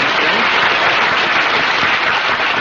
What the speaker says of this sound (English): let's have a applause for Mary